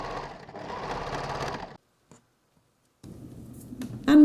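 A sewing machine stitches a dress hem in a steady mechanical whir for under two seconds, falls silent, then starts again with a faint tick before a louder burst at the end.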